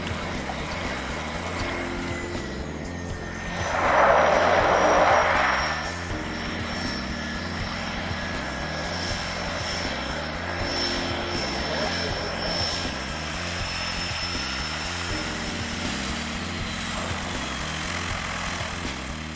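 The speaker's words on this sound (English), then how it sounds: "The plane with the first week's hunters on board is about to arrive from Thompson." Steady propeller aircraft engine drone throughout, with a brief louder burst of broadband noise early on, moderately close.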